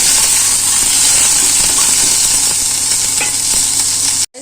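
Tomato frying in a pan, a loud, dense sizzle with scraping stir strokes running throughout, then a brief cut to silence near the end.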